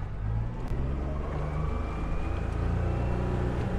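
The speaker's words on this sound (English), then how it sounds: "So we'll trim the motor down," An outboard motor on a 2021 Quintrex 420 Busta aluminium boat drives the hull up to speed, a close, loud low drone with rising engine tone and water rush, no voices heard.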